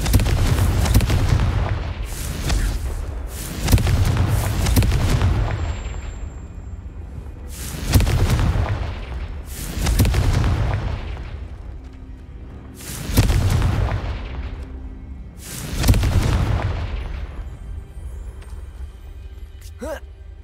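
Confringo fire spell explosions in Hogwarts Legacy: about seven deep, booming blasts at irregular intervals, each one decaying slowly, fairly loud and close, with a voice speaking between them.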